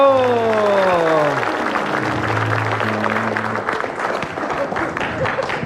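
Studio audience on an Indonesian comedy show applauding during a hypnosis segment, a dense wash of clapping that swells and stays loud, with a voice speaking over the start and sustained tones fading beneath.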